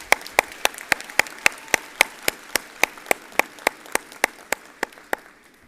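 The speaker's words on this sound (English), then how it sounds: "A round of applause to you." Crisp, evenly spaced claps ring out about four per second at a university engineering graduation ceremony, roughly twenty sharp hits in a steady rhythm that keeps going with nothing else over them.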